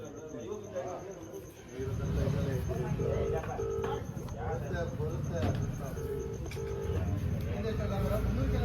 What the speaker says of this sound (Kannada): ಅವರಿಗೆ ಈಗ ಫೋನ್ ಮಾಡ್ತಾ ಇದ್ದೀವಿ